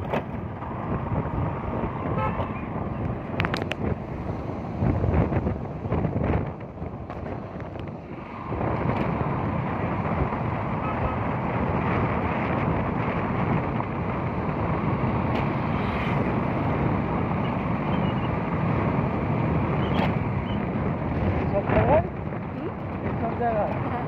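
A boat moving through floodwater over flooded fields in a rural area, a steady low rumble with wind buffeting the microphone, continuous and fairly close.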